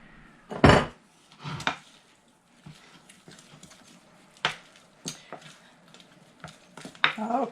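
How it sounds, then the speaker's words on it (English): A spatula scrapes down a mixing bowl of buckle batter with raspberries, giving a series of close, short scraping knocks and clatters at an uneven pace with quiet gaps between them. "let me grab a spatula, scrape down my bowl"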